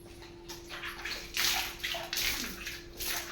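Water pours and splashes onto a rough, unfinished cement floor in a steady, close rush of sloshing, with several stronger surges as more water is tipped out.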